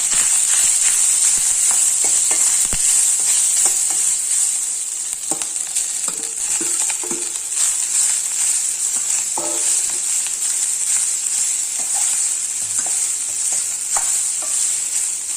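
Cooked rice stirred and tossed in a hot pan for a Tamil Navaratri offering dish, giving a steady close sizzle with repeated scraping and clicking strokes throughout, no talking.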